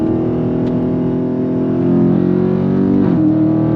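Dodge Charger Scat Pack muscle car pulling hard under throttle, a deep continuous engine growl that swells louder midway and drops briefly at a gear change, close and alone without voices.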